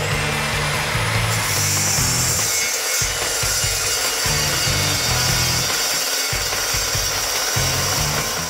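Saw cutting through metal car axles to shorten them during a Ford 9-inch rear end rebuild, a loud continuous rhythmic grind of rapid strokes with brief dips, close up and alone.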